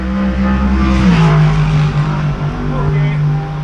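A Kawasaki ZX14R motorcycle engine runs loud and steady at close range, with a low droning tone that shifts in pitch about a second in, seemingly idling and revving under faint background noise.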